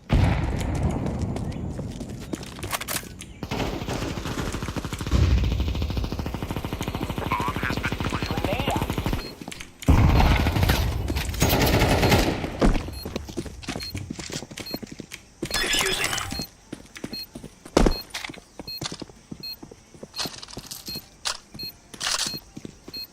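AK rifle fire in a video game rattles out in dense, loud bursts of sharp cracks and booms, with short pauses between volleys and scattered single shots near the end.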